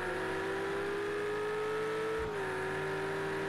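In Project Cars 2, a race car engine holds a high, steady drone at full throttle, with a brief dip in pitch and a low thump midway before the note settles slightly lower and continues.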